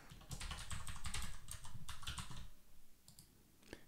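A password is typed on a computer keyboard in quick, close bursts of clicking keys that slow and thin out toward the end, with no talk.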